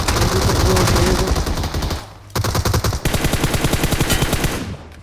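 Rapid automatic gunfire in the mobile battle royale game PUBG Mobile, a loud, dense stream of shots with a brief gap before a second sustained burst, and a voice faintly underneath.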